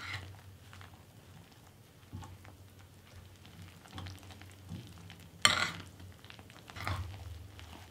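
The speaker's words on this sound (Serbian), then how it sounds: "i sve ću promešati sa kašikom" A spoon stirs a dough of flour, baking powder, salt and hot water in a bowl, giving soft, irregular scraping and squelching sounds close by, with a sharper clink in the middle.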